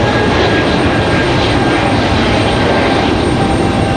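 An airliner climbs out steeply after takeoff at Raleigh-Durham International Airport. Its engines give a loud, dense, unbroken roar with a thin steady whine, close and constant.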